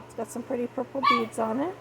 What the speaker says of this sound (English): Sorry for the dogs making noise.